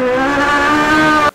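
A high-revving naturally aspirated Toyota 4AGE engine holds a steady, sustained wail with strong harmonic tones, loud and close, then cuts off abruptly.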